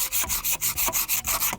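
A handsaw cuts through fallen tree branches in fast, even back-and-forth strokes, about ten rasping pulls in under two seconds, close and steady with no voices.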